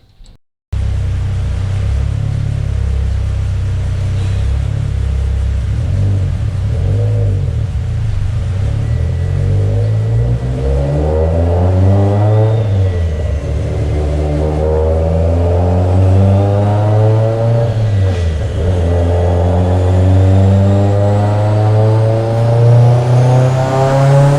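A tuned Mitsubishi Evo X with a Garrett G35-1050 turbo, Kelford cams and a raised rev limit, pulling hard at high revs. A loud, close engine climbs through repeated acceleration sweeps with a deep rumbling drone.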